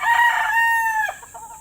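A young Sweater gamefowl rooster, about three months old, gives a single clear crow that holds steady and then breaks off into a ragged, fading tail, heard close and alone.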